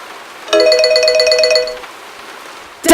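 A telephone rings in the adventure video game Memento Mori 2: a bright, electronic trilling ring with a rapid pulsing pattern for just over a second, then it fades. A short louder sound cuts in at the very end.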